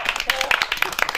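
Children clapping along at a street snake-charmer's comedy show, quick uneven handclaps mixed with overlapping voices in a short burst.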